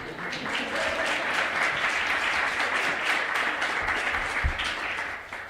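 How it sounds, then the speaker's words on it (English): A conference audience at a diplomatic academy human rights event applauds, a thick, even wash of many people clapping that holds steady throughout and tapers slightly at the end. "applause"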